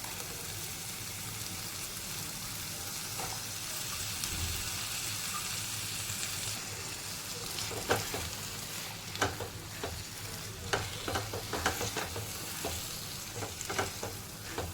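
Washed peas go into a thick, simmering tomato gravy. A low bubbling hiss plays for a while before a spoon starts stirring, bringing quiet, irregular scraping taps in the second half.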